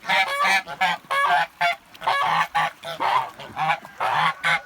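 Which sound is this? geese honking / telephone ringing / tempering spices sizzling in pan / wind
geese honking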